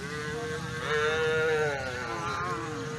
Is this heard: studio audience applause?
no